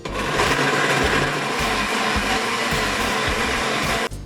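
A blender purees cooked pumpkin with a little added water, a loud, steady whirring drone with rhythmic pulses that runs without a break for about four seconds and then cuts off, with no voices.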